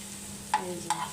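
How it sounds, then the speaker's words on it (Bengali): Bottle gourd peel and potato being stir-fried in oil, with two soft scraping stirs of a spatula over a faint, steady sizzle. "সম্পূর্ণ তেলের মধ্যে ভাজিটা করে নিয়েছি আমি"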